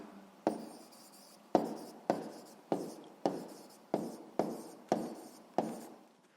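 Ten sharp, evenly spaced strokes of writing during a physics lesson, each a quick scratch that fades out, close and alone with no speech.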